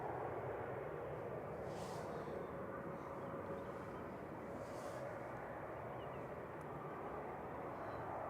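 ATR 72-600 turboprop aircraft at Manchester Airport, a steady broadband engine drone with a faint tonal hum holding at an even level throughout, heard from a distance with no talk over it.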